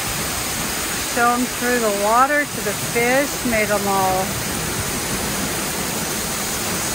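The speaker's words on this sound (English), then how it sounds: "Now we can sit inside and enjoy the rain." Steady rain falls during Guam's rainy season, a constant dense hiss that runs throughout while someone speaks over it for several seconds.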